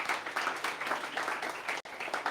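An audience at a startup pitch competition applauds a jury member, a dense wash of many hands clapping that stays steady and fairly loud throughout, with a brief cut near the end.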